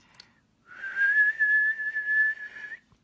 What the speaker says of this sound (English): Let me try and whistle if I can, and you'll see what the frequency of my whistle is.